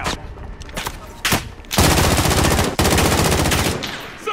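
Loud, dense automatic gunfire from a Call of Duty match, rapid bursts running almost continuously with brief breaks between volleys, close and harsh.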